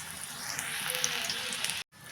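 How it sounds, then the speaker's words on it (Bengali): Drumstick leaf pakoras frying one by one in hot oil in a wok: a steady, close, broadband sizzle with tiny crackles, running without talk until it cuts to a brief silence near the end. "আমি এবারে একটা একটা করে এইভাবে দিয়ে আমি সবগুলো ভেজে উঠিয়ে নেব।"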